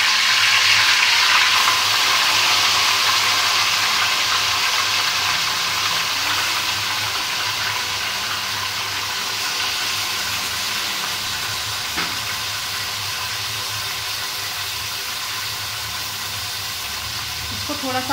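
Mutton frying in a pot with garlic and ginger for Punjabi aloo gosht, giving a steady, loud sizzle and hiss that holds throughout with little change, no talk over it.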